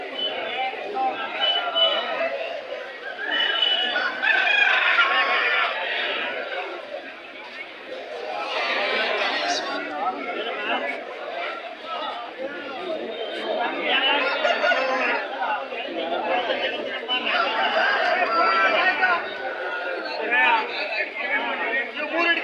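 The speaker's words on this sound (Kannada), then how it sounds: "ಈ ಸಂತೆಗೆ ಯಾವ್ಯಾವ ತಳಿ ಕೋಳಿ ಬರ್ತಾವ ಸರ್?" At a crowded hen market, hens and roosters cluck and crow amid loud chatter from the crowd, with people talking throughout and birds audible under the voices.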